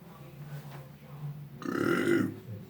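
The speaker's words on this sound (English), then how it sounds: "I burped like a couple times," A single drawn-out human burp swells up near the end of the short stretch, close and fairly loud after a quiet lead-in with a faint low murmur.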